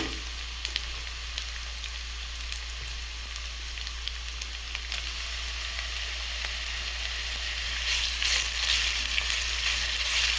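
Small fish frying in a pan for a brinjal curry, giving a continuous dense crackling sizzle close up that swells slightly louder near the end, with no voices.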